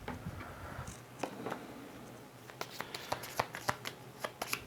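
Board game cards for This War of Mine shuffled by hand on a table, a run of crisp riffling clicks and flicks that grows denser and sharper toward the end, close and alone with no talk.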